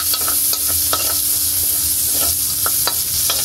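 Chopped onions sizzle and fry in a pan for Filipino pork bistek with potatoes, a close, steady crackle broken by the scrape and clack of a utensil stirring.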